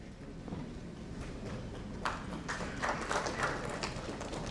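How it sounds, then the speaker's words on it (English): Scattered clapping rises from a conference audience applauding a panel member at a discussion on AI and treasury management, starting sparse and thickening midway into a steady, fairly soft patter of hands. "A big round of applause to Ruchi ji for her wonderful contribution in the panel."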